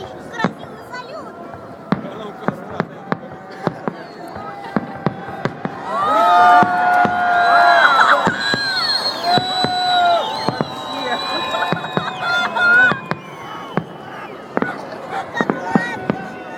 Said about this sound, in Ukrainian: Захочет прогуливать такой красивый салют?